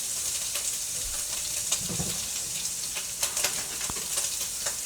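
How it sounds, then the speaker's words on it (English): Cheap sandwich ham fries in hot oil, a continuous crackling sizzle with scattered sharp pops and occasional soft scraping as it is stirred. "hot oil there. And some caramelization on the cheap sandwich ham."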